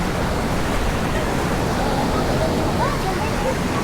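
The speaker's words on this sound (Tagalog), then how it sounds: "Medyo malakas ang alon. Ay, ang current." Strong river current and waves rush steadily at a river crossing on the way to Mother Falls, a loud, unbroken broadband roar with no pauses.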